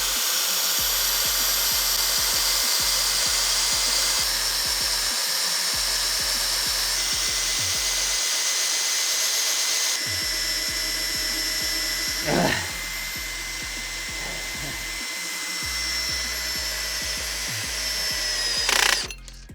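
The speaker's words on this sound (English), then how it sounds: "Start with a drill slightly smaller than the hole," A power drill bores a pilot hole during a Volvo short shifter install, a steady whining motor drone running close and loud in repeated long bursts with brief pauses between them.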